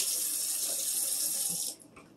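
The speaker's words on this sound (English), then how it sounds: "You're going to take the eye round and rinse it." Tap water runs steadily over an eye round beef roast being rinsed under a kitchen faucet, a loud close hiss that cuts off near the end, leaving a faint drip and trickle.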